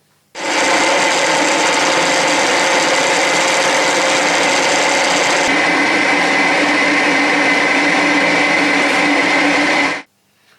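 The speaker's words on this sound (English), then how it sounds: "in the same setup I will drill the 4mm hole for the piston pin" Steady, loud mechanical grinding and rasping from a lathe drilling a 4mm piston-pin hole in a metal piston for a small model engine, continuous for about ten seconds with a slight shift in tone midway.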